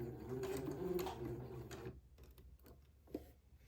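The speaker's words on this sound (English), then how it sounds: "I will proceed to sew, taking my pins out as I come to them" A sewing machine stitches fabric with a steady whirring hum that stops about halfway through. Faint ticks and small clicks follow in the quiet.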